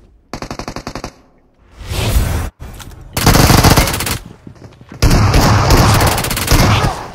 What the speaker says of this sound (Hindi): वो शॉटगन पड़ गई वो फिनिश करेगा